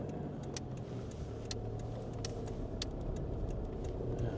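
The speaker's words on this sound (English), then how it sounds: "Traffic." Cars drive through downtown Vestmannaeyjar in the Westman Islands, a steady low rumble of road traffic heard from above, with faint ticking clicks scattered over the engine drone.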